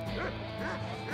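Dog barking in the Shank video game, a few yipping barks repeating over continuous game music and effects.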